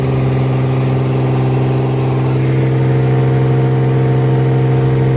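A Ford 300 straight six in a 1981 F100 runs at a steady 2,000 RPM during break-in, a loud, even, close drone with a firm low hum and no speech.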